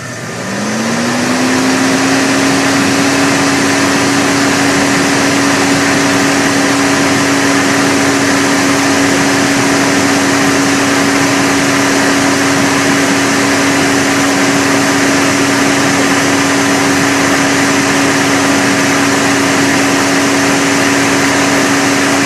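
Electric radiator fan on an idling 1978 Ford Pathfinder Quadravan 4x4 van spins up in the first couple of seconds, then holds a loud, steady whirring hum with a constant tone over the engine idle.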